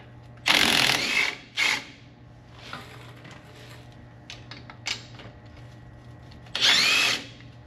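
A power tool whirs in short, loud bursts to undo the bolts on a Chevy 1500 rear brake assembly, with a few clicks and metal clinks of handling between the bursts.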